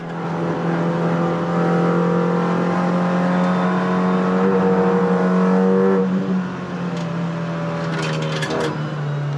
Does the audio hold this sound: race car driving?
yes